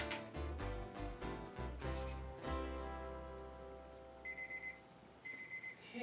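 An oven timer alarm goes off while baking a spaghetti pie casserole, bursts of high electronic beeps in short repeating groups, faint amid kitchen clatter and rumble.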